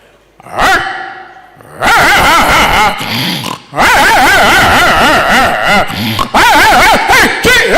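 A person's voice imitates dogs barking and howling at night, with loud, wavering yelps and growls in several long bursts, close up.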